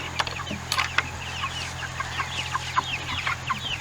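Several chickens cluck and cackle in short, scattered bursts over a steady low hum, fairly close, with no talking.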